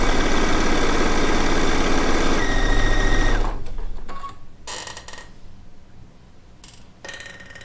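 Sewing machine stitching fabric over a starter cloth: a loud, steady mechanical whirring that runs for a few seconds, then stops and gives way to quieter clicks and short bursts of the motor.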